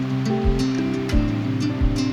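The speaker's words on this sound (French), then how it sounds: "Le vent fait naître de petites vagues sur le lac, qui se brisent doucement contre le rivage." Wind-driven small waves break gently on a pebble beach along a lake in Patagonia's Torres del Paine, several soft washes arriving at a steady rhythm close by over a continuous low rumble.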